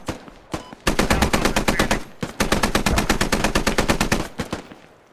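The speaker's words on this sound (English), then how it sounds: "we're getting shots somewhere out here" Automatic rifle fire in the military shooter game Squad, loud close bursts of rapid evenly spaced shots running almost continuously for several seconds after a couple of single cracks.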